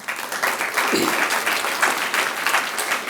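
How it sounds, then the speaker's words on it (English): An audience at a World Tourism Day event breaks into loud, sustained applause, a dense steady wash of many hands clapping throughout. "Let us welcome the World Tourism Day by giving a big applause."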